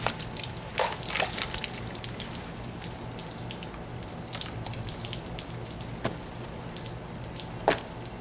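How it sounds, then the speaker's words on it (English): A fire hose sprays water in a steady, dense hiss with scattered droplet patter and a few sharper splashes, continuous and fairly close throughout. "A fire hose."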